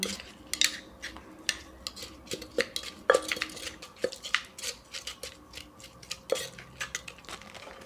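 A pestle strikes a mortar again and again while chili paste is pounded with shrimp paste for nam prik kapi, sharp knocking taps in an uneven steady rhythm, close and clear with no speech.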